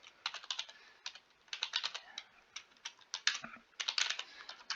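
Quiet, fast typing on a computer keyboard during JavaScript game coding, with irregular bursts of crisp key clicks and short pauses, close up and alone without talk.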